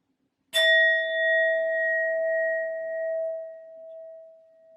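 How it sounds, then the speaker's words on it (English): Sound bowl struck once to clear energy: a single bright strike followed by a clear sustained ringing tone with shimmering overtones that slowly fades over about four seconds. "I'm going to go ahead and get this reading started by using my sound bowl first to clear and set the energy"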